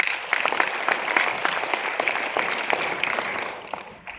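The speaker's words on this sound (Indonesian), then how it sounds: "Tepuk tangan untuk Anda" A seminar audience at a Prudential sales event in Makassar claps steadily in a continuous wash of many hands, moderately loud and fading slightly at the end.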